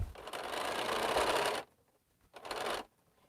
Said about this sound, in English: No more questions, so I can keep sewing.